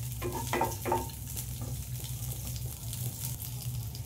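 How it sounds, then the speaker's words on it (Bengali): Capsicum sizzles in hot oil at a steady crackle, with a few soft stirring scrapes near the start. "হালকা খালি একটুখানি ভেজে নিতে হবে।"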